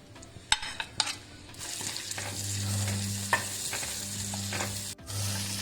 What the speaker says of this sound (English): We continuously fry the vegetables